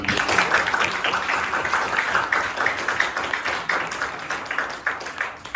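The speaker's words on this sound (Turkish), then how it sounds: "Kuvvetli bir alkış alalım" Audience applause in a school hall during a stage event, many hands clapping in a dense, rapid patter that stays loud and fairly close for several seconds, with a faint voice underneath.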